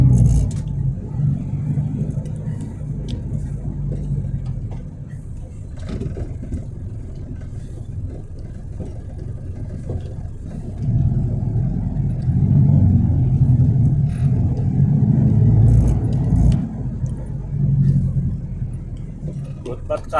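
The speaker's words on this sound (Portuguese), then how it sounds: "Carro vai no meio da rua." A car rolls through a narrow town street in União dos Palmares, its low engine rumble swelling and fading as it passes close by, with voices talking nearby.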